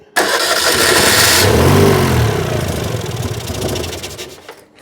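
The engine of a 2CV-based Falcon S kit car, abandoned for 23 years and running with an unhappy carburettor, cranks and catches loudly up close, roars for a moment, then sputters and fades as it struggles to keep going.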